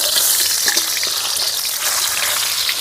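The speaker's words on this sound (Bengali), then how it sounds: "সাদা তেল, সেদ্ধ করা চিকেন সসেসগুলো এখন গরম তেলের মধ্যে দিয়ে দেব।" Boiled chicken sausages fry in hot white oil in a kadai, giving a steady, loud, close crackling sizzle with fine bubbling spatter and no voices.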